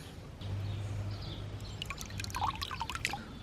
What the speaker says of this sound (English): So before I go out there, I'm gonna soak these with a lot of water so that the roots are easy to tease apart.